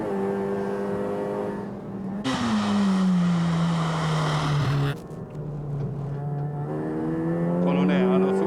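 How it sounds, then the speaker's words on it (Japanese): A 2019 Suzuki Swift or Honda Fit at full throttle, its engine note climbing loud and close, dropping briefly at a gear change around mid-clip, then rising hard again with no talk over it. "全開。"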